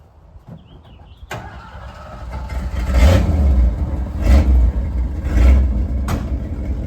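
A 1971 Ford F250 pickup engine with a hole in the exhaust idles, then rumbles louder with repeated swells of revving as it reverses, steady low drone throughout with no voices.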